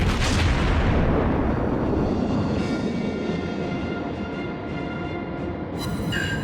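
A naval gun salvo fires from the cruiser New Orleans in World of Warships: a loud, sudden boom that rolls into a long, fading rumble, heard alone.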